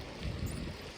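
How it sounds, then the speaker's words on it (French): A small countryside river flowing past a pasture with sheep and hens, giving a steady close rush and trickle of water with no voices. "Ils leur ont même laissé une petite rivière en fait."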